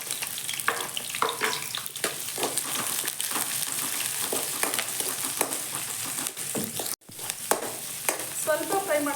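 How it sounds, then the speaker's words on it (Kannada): Onions frying in a hot pan with green chillies and curry leaves, a steady close sizzle broken by scraping stirs throughout, with one brief dropout near the end. "ಸ್ವಲ್ಪ ಫ್ರೈ ಮಾಡಿಕೊಂಡ್ರೆ ಸಾಕು"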